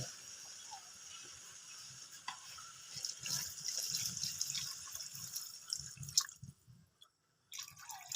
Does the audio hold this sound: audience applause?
no